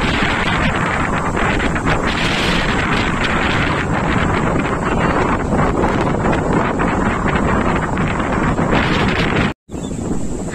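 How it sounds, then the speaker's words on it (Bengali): Strong wind blows across a sea beach at Vizag, a loud, constant rushing roar buffeting the microphone, with rough surf mixed in. It cuts out briefly near the end. "হাওয়ার শব্দ শুনে তোমরা বুঝতেই পারছ খুব কিন্তু জোর গতিতে সেদিনকে হাওয়া বইছিল"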